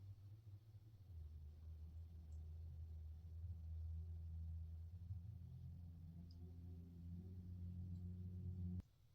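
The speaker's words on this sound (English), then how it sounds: "Look, that's either a weed eater or a motorcycle." A faint engine, either a weed eater or a motorcycle, drones low and steady in the distance in winter, swelling slightly before cutting off abruptly near the end.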